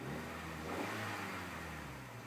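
A brand-new 2012 Honda Fit Sport manual, still breaking in, gives a gentle short rev: a steady mid-pitched engine hum that swells slightly and settles, heard up close with no talking.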